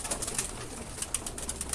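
Pigeons coo softly close by in a loft, with a few brief high chirps.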